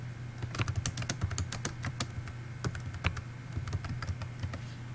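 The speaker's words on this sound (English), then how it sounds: "Click on your flip chart and type your message." Someone types a message on a computer keyboard, steady close key clatter in irregular quick bursts over a low background hum, no talk.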